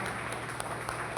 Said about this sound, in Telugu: మనం క్లాప్స్ కొడదాం.